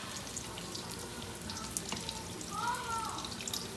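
Flipped chicken fingers fry in hot oil with a steady, quiet crackling sizzle, a soft continuous hiss with faint pops nearby.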